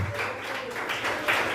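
Congregation clapping during a church service, a soft, moderately distant patter of applause that continues steadily throughout.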